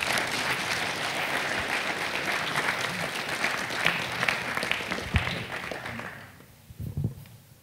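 An audience at a management talk gives loud, steady applause that thins out and fades after several seconds, leaving a few scattered claps and light shuffling.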